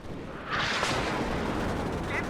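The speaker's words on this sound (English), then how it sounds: "Bring up some more artillery just to finish things off." Artillery fire in the video game WARNO lands as a heavy, rumbling boom that swells and holds as a sustained loud roar of explosions.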